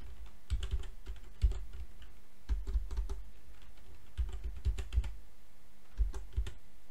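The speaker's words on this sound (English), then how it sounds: "you need to type the command known as date" Keys clacking on a computer keyboard as the date command is entered at an MS-DOS prompt, in short bursts of quick taps separated by brief pauses, close and clear, with no talking.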